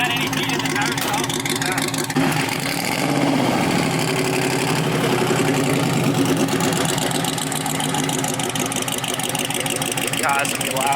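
Loud, steady rumble of a Hellcat-swapped Dodge Lancer GT drag car's engine idling at close range before burnouts, running continuously throughout with a slight rise partway.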